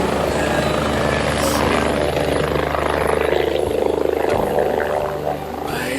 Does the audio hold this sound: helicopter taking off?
yes